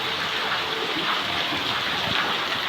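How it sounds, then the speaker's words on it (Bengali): Heavy afternoon rain in West Bengal pours steadily onto a water-filled veranda, making an unbroken, loud wash of rainfall with a few heavier splashes. No voices are heard. "দেখতেই পাচ্ছ এত বৃষ্টি"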